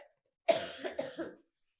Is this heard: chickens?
no